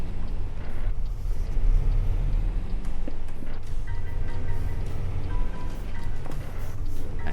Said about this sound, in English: It's funny, you can actually hear the engine.